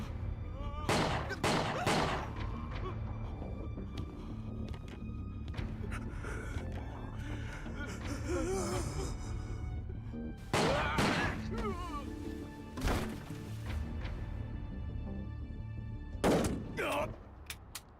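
Gunfire in Yakuza 4: scattered clusters of loud shots, some in quick bursts and others spaced seconds apart, mixed with game effects and brief voice sounds in between.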